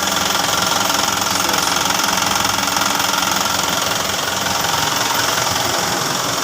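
An Isuzu 4HF1 diesel truck engine runs steadily close by, a loud rough idle with a knocking, rattling texture throughout.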